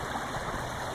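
A stream flowing steadily near a pond, its continuous broadband rush of water close and even throughout, with no voices over it.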